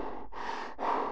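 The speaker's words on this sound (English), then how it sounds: "Why am I hearing someone breathing?" Heavy breathing in a Roblox analog horror game, three slow drawn-out breaths in succession, close and audible, with the last breath louder.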